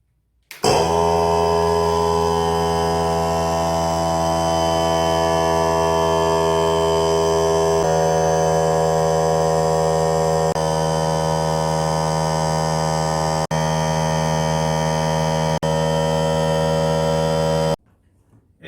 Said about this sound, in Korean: 연료 탱크에 공기가 채워지면 컴프레션은 자동으로 멈추게 됩니다.